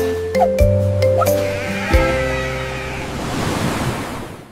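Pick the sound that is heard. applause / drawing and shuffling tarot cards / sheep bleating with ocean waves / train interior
sheep bleating with ocean waves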